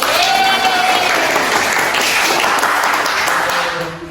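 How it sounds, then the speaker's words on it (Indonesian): Classroom applause for a student, dense steady clapping from the room that holds strong for about three and a half seconds before trailing off. "Give applause dulu untuk Detri."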